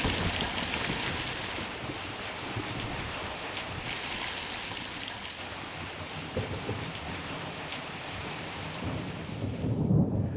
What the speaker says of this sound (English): I know, it's raining.